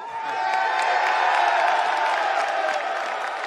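A crowd at a UFC 268 press conference in New York cheers and applauds for Dana White, a steady, dense wash of clapping and whoops holding at an even level throughout.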